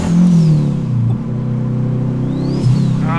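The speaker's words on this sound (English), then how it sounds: "limiter in this thing is cooked!" A Mitsubishi Lancer with a 4G15 engine revs hard and bounces off the rev limiter, the steady high drone broken by a stutter near the start and another sharp cut-and-surge near the end, loud and close with no talk.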